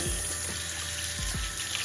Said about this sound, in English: I just put enough water to cover the tubes